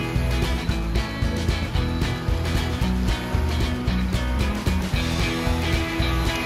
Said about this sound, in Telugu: nice water fountain sound